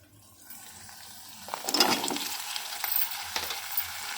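Drumsticks and chilies frying in a pan, a quiet sizzle that swells into a louder hissing splash of sizzle as more is added, then settles into a steady crackle with light stirring, close up and without talk.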